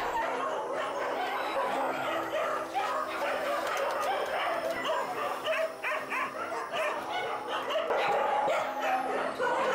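A large chorus of more than 500 dogs howling and yipping together before feeding, continuous and loud, a dense mass of overlapping voices.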